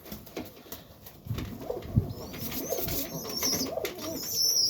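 Serbian highflyer pigeons coo in a winter loft, low soft coos coming in a few close bursts, with wing flutters and light rustling behind them and thin chirps further off, with no speech.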